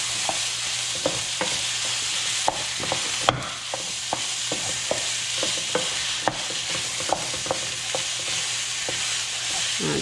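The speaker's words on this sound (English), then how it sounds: "I'm just going to break it up with a wooden spoon really quickly" Ground meat is broken up with a wooden spoon in a hot pan, a steady sizzle with repeated sharp scraping taps of the spoon against the pan, close and clear.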